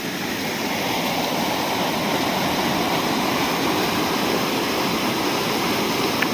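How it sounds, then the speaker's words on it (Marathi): Heavy monsoon rainwater rushes in a stream across a village road, a dense, loud, steady roar of flowing water with no let-up and no voices. "ओढ्यातून पाणी कसं जातं हे बघा"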